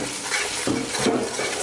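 Kadhi seasoned with garam masala, turmeric, salt and chili flakes is stirred in a pan, making a brief, continuous, dense bubbling hiss with soft scraping.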